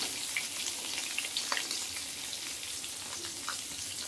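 Pieces of bitter gourd fry in hot oil in a pan, giving a steady, close sizzle with scattered small pops and crackles throughout, no voices.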